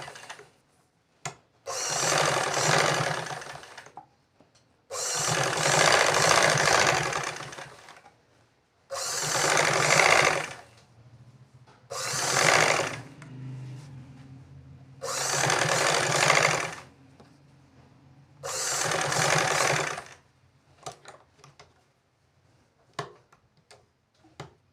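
Domestic sewing machine stitching lace onto an Anarkali-style frock, running in six loud bursts of steady rapid stitching separated by short pauses with faint handling noises.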